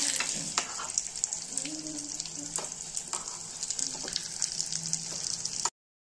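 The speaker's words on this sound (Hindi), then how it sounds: "यहाँ पर देखिए गाजर का हलवा भी बन रहा है" Carrot halwa cooks in a pan with a continuous soft sizzle and frying hiss. Intermittent scraping stir strokes and light clinks sound close up, with no talking.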